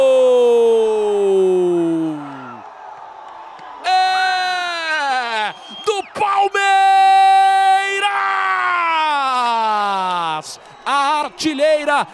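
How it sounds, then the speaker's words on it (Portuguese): A football crowd yells and whoops loudly after a Palmeiras goal, with drawn-out, tonal shouts rising and falling over about twelve seconds. "Qual foi da gritaria aí?"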